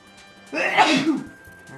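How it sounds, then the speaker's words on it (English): A single close sneeze, a sudden burst of breathy noise lasting about half a second before fading, with quiet game sound around it. "Bless you. Oh, I sneezed."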